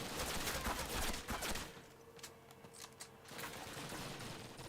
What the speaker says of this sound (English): it does actually seem that our boys are shooting down from the windows